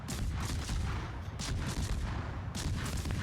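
Naval guns fire from a Forrest Sherman destroyer in a video game: heavy booms and rumbling volleys repeat in a constant barrage, loud and full, with short sharp cracks breaking through the continuous roar.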